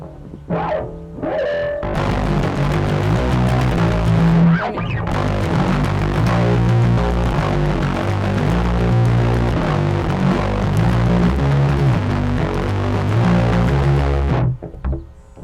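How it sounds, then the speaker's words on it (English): Heavily distorted electric guitar played through a distortion pedal plays sustained chords with a thick, buzzing tone, loud and continuous, after a few brief opening notes. "heavier music tends to use a lot of distortion like that."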